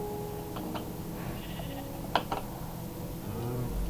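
A few short, synthetic-sounding sheep bleats in a video game farm over a steady low hum, with light clicks around them.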